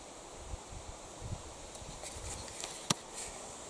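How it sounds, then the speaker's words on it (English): Steady, ungusting wind blows outdoors in a sheltered spot near a lake during a moose hunt, a continuous low rushing with soft rustling and a few small bumps, faint and even throughout. "it's not even gusting anymore. It's just a straight wind."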